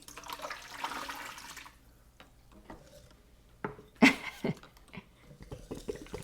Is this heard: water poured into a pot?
yes